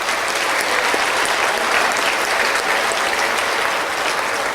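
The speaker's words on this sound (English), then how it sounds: "let's give these students a round of applause" An audience applauds student musicians at a city school music festival, a dense, steady wash of clapping from many hands that fills the whole stretch without letting up.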